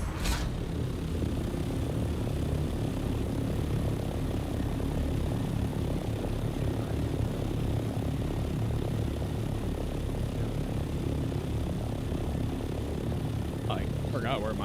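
Ornithopter engine in the game Dune Awakening, a steady, loud droning roar with a propeller-like churn that holds throughout, while people talk over it.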